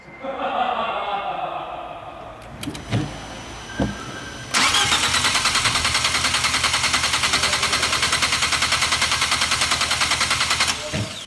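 An Abarth 595 engine with a TD04 turbo cranks over after a few clanks, with the cam angle sensor removed to prime the turbo with oil, the starter churning in a steady rapid rhythm for several seconds without catching.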